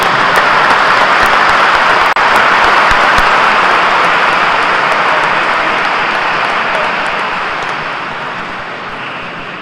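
A church congregation applauds loudly during Sunday Mass, a thick, sustained roar of many hands that holds steady and then slowly fades near the end.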